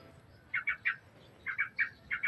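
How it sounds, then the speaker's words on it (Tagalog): A pet bird feeding its chick gives short, bright chirps in quick pairs and triplets, close and clear over a quiet room with no talking. "Tingnan nyo po yung ibon ko po."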